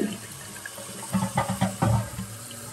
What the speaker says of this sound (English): This is a canister flush.